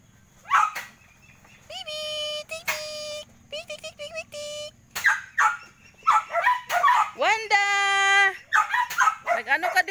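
Dogs bark, yip and whimper in repeated short bursts close by, some calls rising into high whines, with people talking and calling out between them.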